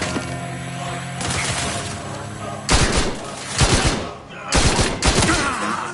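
Gunfire in a video game: rapid bursts and volleys of shots crackle in loud clusters with short gaps between them, dense and close.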